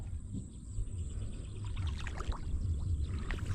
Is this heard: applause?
no